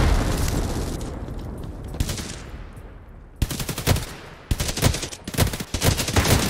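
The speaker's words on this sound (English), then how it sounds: "Grenade out!" In the video game Hired Ops, a grenade blast rolls out and fades, followed by loud bursts of rapid automatic gunfire in short, close volleys.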